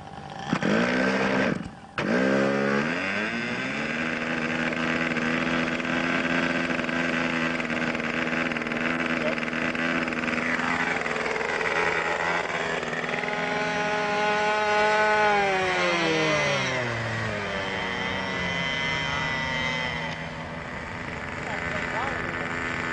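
A radio-controlled model airplane's engine buzzes loudly and steadily, briefly cutting out near the start, then rising and falling in pitch as the throttle and speed change.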